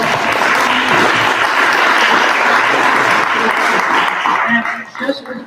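Audience at a panel event on AI and IP rights applauds in a dense, sustained round of clapping that fades out toward the end.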